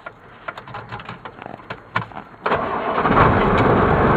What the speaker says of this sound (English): Now I'm going to go ahead and I'm going to fire up the truck.